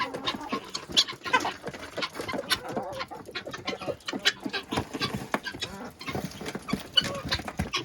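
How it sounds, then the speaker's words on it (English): Chickens, ducks and guinea fowl let out into the snow, a busy mix of clucks, squawks and calls overlapping continuously at moderate distance. "I hope you enjoyed these chickens, ducks, and guineas getting out for the first time in quite a while."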